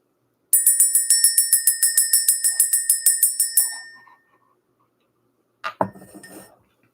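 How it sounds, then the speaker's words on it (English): A bright metal bell rings in a rapid, steady run of about twenty ringing strikes lasting several seconds, close and clear, followed by a brief soft clatter before quiet. "Let's ring this bell."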